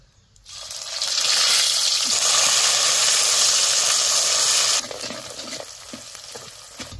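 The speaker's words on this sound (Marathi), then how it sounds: "आता तेलात मसाला चांगला भाजला" Homemade Kolhapuri onion-garlic masala, stone-ground, hits hot oil with mustard seeds and cumin and sizzles loudly for several seconds, a bright steady frying hiss that then eases to a quieter simmer.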